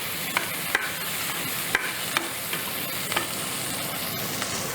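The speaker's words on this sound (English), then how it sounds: "I get quite a sizzle off of that because they are frozen" Frozen vegetables sizzle in a frying pan while being stirred: a steady, loud hiss with scattered sharp crackles and pops throughout.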